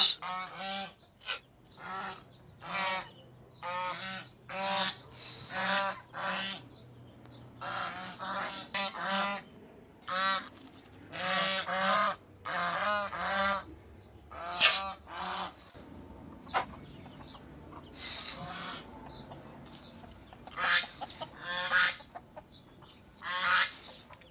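Chickens and ducks run loose around an outdoor restaurant in Dhaka, calling loudly and close by. Honking quacks and clucks come in rapid, repeated bursts, at times overlapping, with no talk under them.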